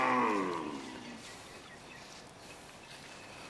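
A Gir-Jersey crossbred dairy cow on a dairy farm gives one loud, close moo that tails off over about a second, followed by quiet outdoor ambience.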